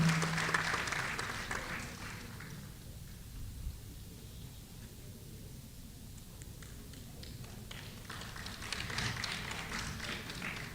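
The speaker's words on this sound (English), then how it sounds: "let us put our hands together in warm round of applause to honor this moment of" An audience at a ceremony claps in sustained warm applause, fairly distant and steady, swelling slightly toward the end.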